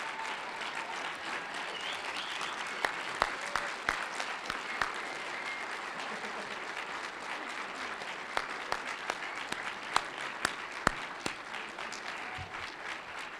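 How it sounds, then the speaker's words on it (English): An audience at a Hall of Fame awards ceremony gives a long round of applause, a steady mid-level patter of many hands with a few sharper claps standing out near the microphone. "Let's have another round of applause for the class of 2013."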